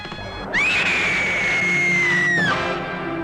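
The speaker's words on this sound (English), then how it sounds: "finally make you scream in terror" A woman's high, sustained scream of terror from the Drive-In Massacre slasher film trailer rings out loud and unbroken for about two seconds, then stops abruptly over a dull background.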